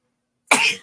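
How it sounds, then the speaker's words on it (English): A single short, sharp burst from one person, sudden and close after near silence. "I gotta sneeze."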